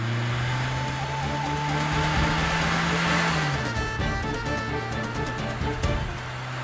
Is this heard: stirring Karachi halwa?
no